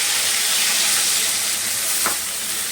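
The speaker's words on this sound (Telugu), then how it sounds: "ఈ మనం అల్లం వెల్లుల్లి పేస్ట్ అదంతా వేస్తాం కాబట్టి ఈ ఆయిల్లో కూడా కొంచెం ఫ్రై చేసుకుంటే ఫ్లేవర్ సూపర్గా ఉంటుంది" Ginger garlic paste fries in hot oil in a pan, a steady close hiss and crackle of sizzling throughout.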